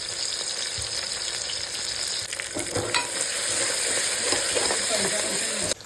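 Garlic-ginger paste frying with onions in a pan for chana dal, giving a steady close sizzle with a stirring scrape partway through. No one speaks.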